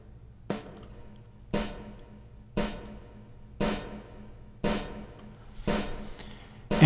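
Snare drum sample brightened with the Airwindows BrightAmbience plugin, struck six times at an even pace of roughly one hit per second, each crack bright and sharp with a short airy tail, alone with no talking.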